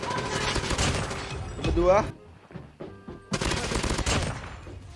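Rapid bursts of gunfire crackle in the mobile shooter game Call of Duty Mobile, with a player's voice talking in between the shots.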